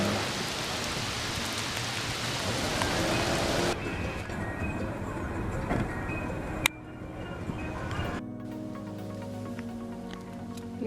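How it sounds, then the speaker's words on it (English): Rain beginning at Punta Ostiones beach in Cabo Rojo, Puerto Rico, a steady broadband patter that abruptly changes character partway through, with a sharp knock and a quieter, thinner shower afterward. "It's starting to rain, so we're going to get going"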